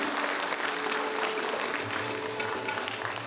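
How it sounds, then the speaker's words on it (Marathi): Audience at a rickshaw union award ceremony applauding students, a sustained, dense round of clapping from a crowd that stays loud throughout, with a faint hum beneath. "जरा टाळ्यांचा आवाज आला तर त्या विद्यार्थ्यांनाही तेवढंच कौतुक वाटेल"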